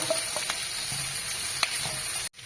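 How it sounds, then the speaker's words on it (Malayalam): Square-cut onions and capsicum sautéing in a pan with garlic for chilli chicken, a soft continuous sizzle with a few faint scrapes and taps, cutting off abruptly near the end. "അതിലേക്ക് സ്ക്വയർ ആയിട്ട് അരിഞ്ഞ രണ്ട് സവാള ഒരു ക്യാപ്സിക്കം ഇതിട്ടൊന്ന് വഴറ്റുക"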